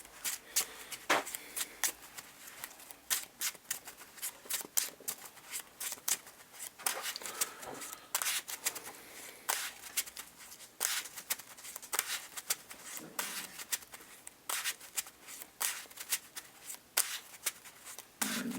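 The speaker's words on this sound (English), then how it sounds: "oh, I gotta shuffle first" Playing cards from a Marvel Champions deck are shuffled by hand close up, making quick rapid riffles and soft slaps that repeat in uneven bursts throughout.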